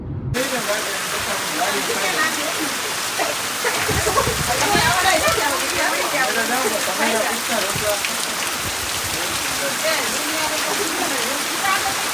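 Heavy rain pours steadily in a village, roads closed by the downpour, a dense continuous hiss of drops striking surfaces with some splashing, while someone talks over it.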